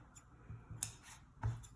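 Small scissors snip sewing threads on a fabric picnic roll-up, two or three brief, faint crisp cuts in a quiet room.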